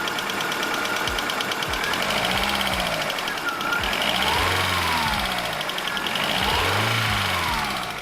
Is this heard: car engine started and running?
yes